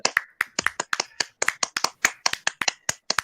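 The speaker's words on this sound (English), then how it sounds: "Please, can we get some applause for our 2 officers who are leaving the officership?" Applause from a conference audience for departing officers: a steady run of sharp, close hand claps at an even, brisk rhythm, fairly loud and with no talking over it.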